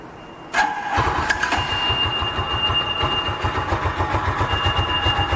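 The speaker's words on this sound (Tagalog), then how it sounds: "So, let me just give you a quick startup of the bike. Rusi Classic 250." A Rusi Classic 250 motorcycle engine cranks and catches about half a second in, then settles into a steady, loud, rhythmic idle thump that runs uninterrupted to the end, close by with no talk.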